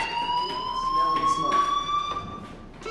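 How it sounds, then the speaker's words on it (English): A shrill electronic fire alarm in the video game Life Is Strange sounds continuously at a steady pitch, ringing loud and unbroken for a few seconds. "do you hear that fire alarm? That means you should be outside."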